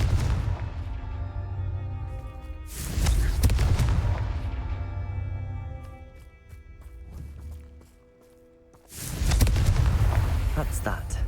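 Confringo fire spells burst in Hogwarts Legacy while exploring Hogsmeade: two heavy, booming blasts, each rumbling and fading over a few seconds, with quieter crackling and distant activity between them.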